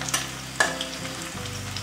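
Sliced onions sizzle and hiss in hot oil in a pan, a short close burst of frying with a couple of stirring clatters, no voices.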